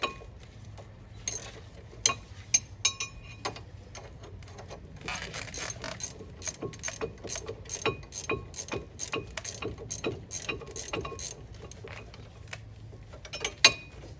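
A ratchet works on the brake caliper bolts of a 2013 Cadillac CTS coupe during a Brembo brake install. Fairly quiet bursts of rapid metallic clicking mix with scattered clinks of tools.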